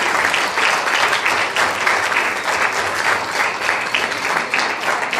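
Loud, sustained applause from a live audience at a television show launch event, greeting a lineup of twin pairs; a thick, continuous roar of many hands clapping at close range, steady throughout with no speech on top.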